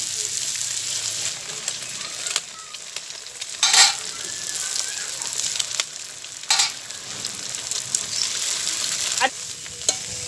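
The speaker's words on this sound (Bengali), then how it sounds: "এবারে আমি ডিমটা ফাটিয়ে এর মধ্যে দিয়ে দিলাম।" Egg cracked into a hot pan and fried while stirred for egg bhuna rice, a steady soft sizzle with occasional louder scraping strokes of the spatula, no voices.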